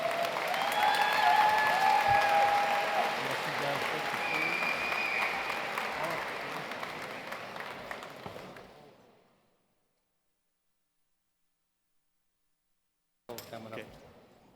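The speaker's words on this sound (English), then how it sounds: "Please give both of them a big round of applause." Awards ceremony audience applauding loudly and steadily for about nine seconds, then fading to silence before a brief burst of clapping returns near the end.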